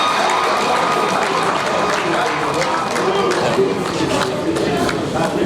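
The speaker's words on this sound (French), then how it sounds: "Sous vos applaudissements, s'il vous plaît." A hall crowd applauds steadily to welcome a speaker at an anniversary celebration for a professor emeritus, a dense continuous clapping with cheers and voices mixed in.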